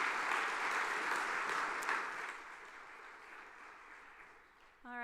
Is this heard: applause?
yes